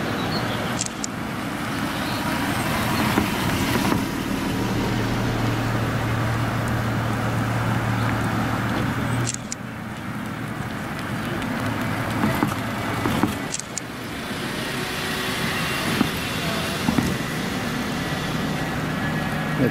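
Several cars roll past in a mini parade outside a church, a steady broadband road rumble with a few louder swells and passing whooshes, fairly close, with no talking.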